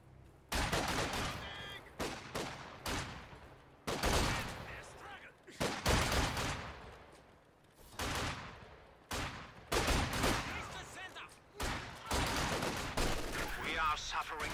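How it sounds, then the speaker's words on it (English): Gunfire from the video game Company of Heroes 2, with machine guns firing in repeated loud bursts and volleys separated by short gaps, mixed with other battle noise throughout. "Machine gun squad, forward!"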